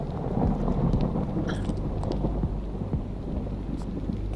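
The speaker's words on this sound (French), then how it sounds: "l'orage ça pète de plus en plus" A thunderstorm with low rumbling thunder rolling continuously under steady rain and wind noise, no single sharp crack standing out.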